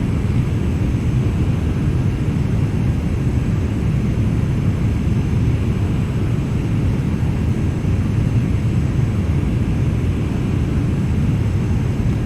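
Steady cruise drone of a Beechcraft Premier 1A business jet in the X-Plane 11 flight simulator, a constant broadband engine and airflow roar held at an even, loud level with no talking.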